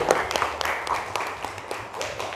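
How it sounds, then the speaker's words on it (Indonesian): Scattered hand claps from a small classroom group, a brief ragged round of applause with a murmur of voices underneath. "coba beri tepuk tangan dulu"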